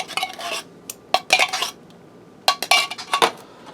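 A spoon stirs cream of mushroom soup into a pan for a taco tater tot casserole, giving close bursts of metallic scraping and clinking against the pan with short pauses between them.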